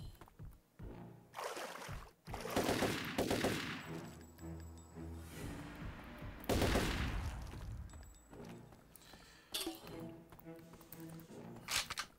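Shotgun blasts in the shooter Turok 3, several loud booming shots spaced a couple of seconds apart with decaying tails, over game ambience.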